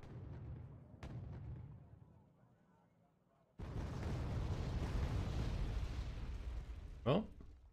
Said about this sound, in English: We got an Su-34 coming in with 12 bombs.